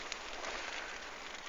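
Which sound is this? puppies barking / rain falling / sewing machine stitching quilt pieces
rain falling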